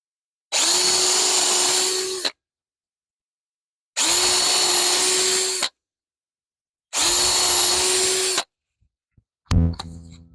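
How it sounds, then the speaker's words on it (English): A power drill drives screws into a new wood rack in a workshop, three loud, steady bursts of about two seconds each with short silences between, followed by a brief clatter at the end. "I will drop 3 screws through the top for this"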